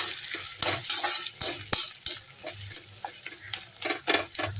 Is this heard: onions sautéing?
yes